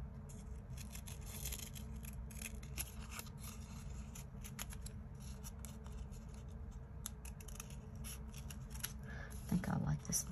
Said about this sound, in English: I think I just kind of fussy cut around here also.